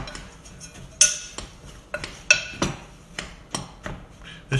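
Butter for an apple crisp is cut up with a knife on a board, a series of sharp close clicks and taps. The knocks come at an uneven rhythm, about once every half second, with no voices.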